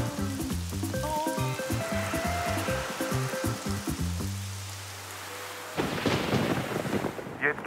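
A melodic tune with a steady beat gives way to a sudden burst of heavy rain and rumbling thunder, loud and close.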